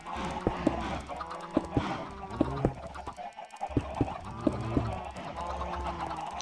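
Chickens in a video game cluck and squawk repeatedly in a busy, overlapping flock chorus that is steady and moderately loud throughout, with no talk.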